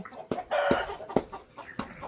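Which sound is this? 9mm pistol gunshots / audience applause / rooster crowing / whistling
rooster crowing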